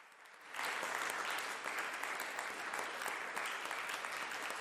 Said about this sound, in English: Let's put a little bit of applause here.